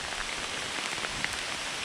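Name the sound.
heavy rain falling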